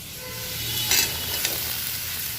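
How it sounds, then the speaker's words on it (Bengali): Ridge gourd and potatoes with salt and turmeric fry in a pan, making a continuous close sizzle with a few sharper stirring scrapes and pops along the way. "ভালো করে ঝিঙেটাও আলুর সাথে ফ্রাই করে নেব।"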